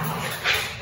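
A house dog gives a single short yip or bark at close range over steady room noise, with no talking.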